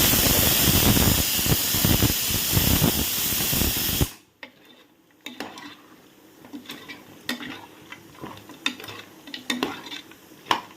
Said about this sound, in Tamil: நல்லா கொதிச்சிட்ருக்குது.